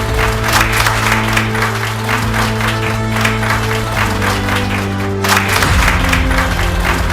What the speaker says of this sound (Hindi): एक बार जोरदार तालियों से अभिनंदन करें एडवोकेट सुधीर शुक्ला